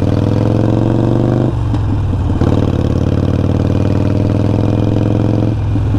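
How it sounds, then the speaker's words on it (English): A motorcycle engine accelerating as the clutch eases out and the bike shifts into second, a loud close steady drone whose pitch steps down at the gear changes, no speech. "Easing out the clutch lever while rolling on the throttle, lifting legs up once you're going a good speed, shifting to second"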